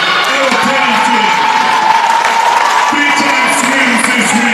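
Crowd at a swimming and diving conference championship applauding and cheering for a swimmer, a steady loud wash of clapping and voices in an echoing natatorium that runs throughout.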